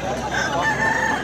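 A rooster crows amid the bustle of a busy open-air village market in Bangladesh, its drawn-out call rising over steady crowd noise and distant chatter for just over a second.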